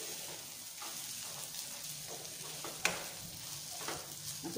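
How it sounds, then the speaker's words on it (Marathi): Sprouted moth beans sautéing in hot oil, giving a steady soft sizzle with occasional stirring scrapes and one sharp clink near the middle, fairly quiet throughout. "असं तेलात जरा चांगलीशी परतून घ्यायची।"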